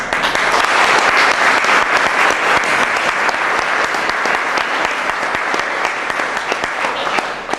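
Sustained audience applause for a scholarship essay award winner at a ceremony, a loud, steady wash of clapping from a crowd that holds evenly from start to end.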